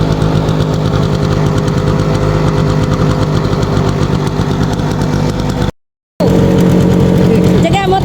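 A small Vespa 90cc two-stroke scooter engine idles loudly and steadily with a rough putter, cuts out briefly, then resumes at the same level.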